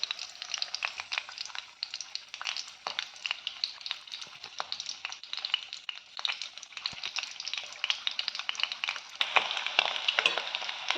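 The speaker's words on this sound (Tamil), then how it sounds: "நம்ம வந்து மீடியம் ஃப்ளேமில் வச்சு நல்லா பொரிச்சிக்கலாம் 2 சைடும்" An egg frying in a pan over a medium flame gives a continuous crackling sizzle with sharp pops scattered throughout, heard alone and close, and a little louder toward the end.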